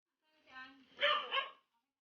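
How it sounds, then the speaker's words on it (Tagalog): A dog gives a couple of short, yappy barks close by, with a brief whine before them, in an otherwise quiet space. "May aso, hoy. Ayun ang aso, oh."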